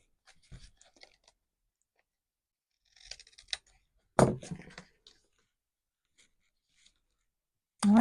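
Scissors cut patterned cardstock from a 6x6 paper pad while a handmade greeting card is assembled: a few sparse, crisp snips and light paper handling with long quiet gaps, the loudest cut near the end.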